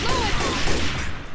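Rapid gunfire in the zombie shooter Left 4 Dead 2, a dense, loud burst of shots that fills the whole moment with no pause.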